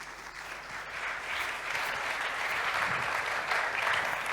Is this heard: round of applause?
yes